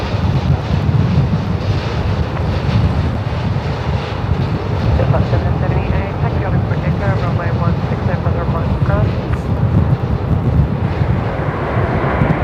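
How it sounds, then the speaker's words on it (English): Strong wind buffets the microphone outdoors at Melbourne Airport, a loud continuous low rumble with steady gusting, and faint aircraft engine noise mixed in beneath it. "Wow, the wind's really picked up."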